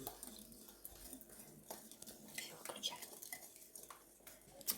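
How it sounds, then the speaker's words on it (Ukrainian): Eggs being whisked with sugar in a bowl for Viennese waffle batter, a quiet, uneven scraping and clinking of the whisk against the dish with soft pauses, close and faint. "Поступово ми збиваємо яйця з цукром"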